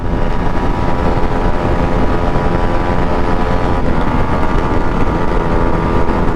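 Drag-racing motorcycles, including a Bajaj NS200, accelerate hard, producing a loud, continuous engine roar that holds steady throughout with no pauses or voices.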